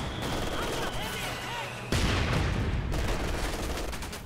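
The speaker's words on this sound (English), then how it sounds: "these mortars are targeting this guy right here" Mortar and gunfire in the strategy game Company of Heroes 2, with sharp shots and a heavy blast midway among continuous battlefield noise, under someone talking.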